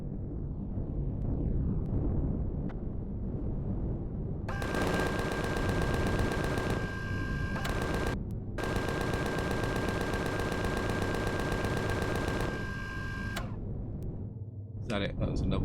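Automatic gunfire fire support in Empyrion Galactic Survival rattles in long, rapid, steady bursts with a brief gap, set over a constant rumbling background; a voice talks underneath.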